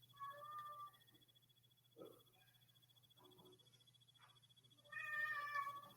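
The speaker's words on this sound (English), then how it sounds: "I got a kitty that's making noises" A domestic cat meows several times, with separate calls at the start, faintly in the middle and again more strongly at the end, close by, over a steady low hum.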